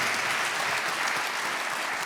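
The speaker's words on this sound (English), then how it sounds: "Big clap to everybody." Sustained applause from the audience at the closing and award ceremony of the Arctic Congress in Bodø, a dense, even roar of many hands clapping throughout.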